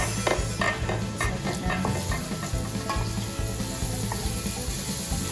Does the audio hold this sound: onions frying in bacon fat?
yes